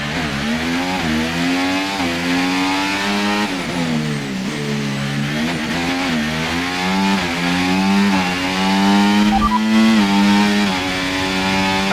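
Formula 1 race car engine in F1 24 at the Austrian Grand Prix, a loud, steady high-pitched whine that rises and falls with gear changes throughout, with no talking.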